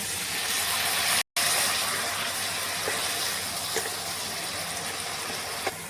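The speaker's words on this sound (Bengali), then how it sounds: "তো এখানে একটু অল্প জল দিয়ে দেব।" Water poured into a pan of frying crushed ginger and garlic, a steady loud hissing sizzle that carries on without pause, close by and with no talking.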